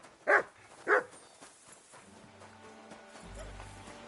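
Two sharp dog barks from the video game Kingdom Come Deliverance 2, fairly close and spaced about half a second apart, followed by quieter game ambience with a low rumble.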